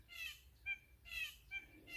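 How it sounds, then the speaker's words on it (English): An unfamiliar woodland bird calls in short repeated phrases, about four bursts in two seconds, fairly clear and alone in a quiet forest near an old turn-of-the-century dump site. "That's a bird I've never heard before."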